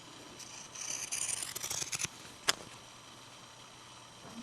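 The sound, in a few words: pinking shears cutting fabric edge along seam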